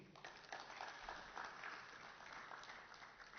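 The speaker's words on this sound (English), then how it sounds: "Round of applause for him." Applause from an award ceremony audience, a steady wash of many hands clapping at moderate volume that runs unbroken from start to finish.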